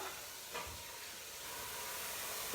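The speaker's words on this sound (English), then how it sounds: "There goes the ginger in the pan." Ginger sizzles in a hot pan for aloo palak, giving a steady, fairly faint hiss that holds evenly throughout, with a soft thump early on.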